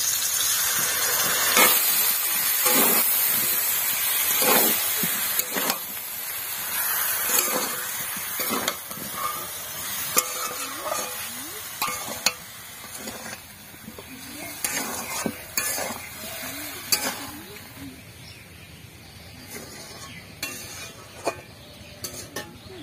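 Ginger, chilli and cumin paste frying in a pan, with a close sizzle under repeated scraping stir strokes and clinks of a utensil on the pan, moderately loud and with no talking.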